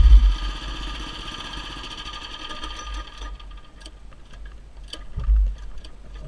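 A motorcycle engine idles just after being started with the choke, a rapid close mechanical ticking and putter that thins out partway through, with a couple of low thumps.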